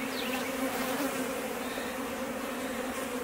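Dense honey bees buzz in a crowded, overflowing hive, a steady close droning hum with layered pitches that holds throughout without talk.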